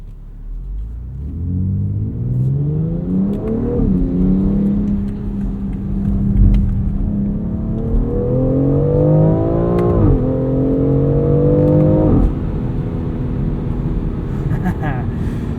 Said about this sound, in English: This 8-speed auto has some crazy gear changes.